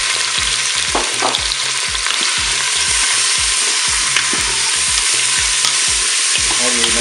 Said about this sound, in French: notre huile est chaude, donc je vais commencer par mettre ma viande